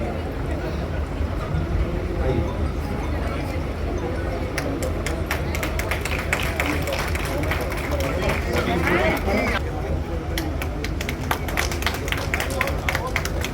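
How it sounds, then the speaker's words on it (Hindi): Audience at a memorial poetry gathering bursts into loud, sustained applause, a dense wash of many hands clapping steadily throughout with some crowd murmur underneath. "जोरदार तालियां"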